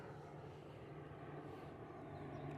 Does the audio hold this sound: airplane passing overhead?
yes